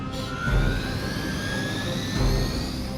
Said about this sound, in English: Disable the Hydra helicopter before it can depart